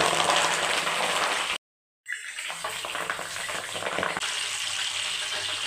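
Hibiscus leaves dropped into hot oil for a homemade hair oil crackle and sizzle loudly up close. The steady frying hiss is broken by a brief moment of silence, then resumes with dense, popping bubbling.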